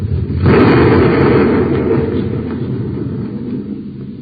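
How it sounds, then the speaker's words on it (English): A cartoon explosion blasts a light neutralizer to bits, a loud booming burst that swells quickly and then rolls on as a long, slowly fading rumble with no voices over it. "there goes a perfectly good light neutralizer blown to bits"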